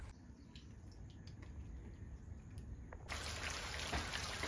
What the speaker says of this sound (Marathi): पावसाने फुल जोड धरले कर्जतला